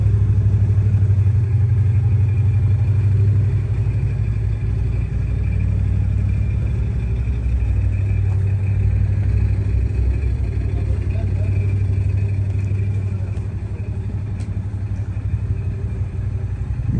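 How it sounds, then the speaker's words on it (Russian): Engine of a 2010 KIA Rio idling steadily, a loud, continuous low rumble with no revving, running smoothly from start to finish. "двигатель работает отлично, никаких лишних шумов нет"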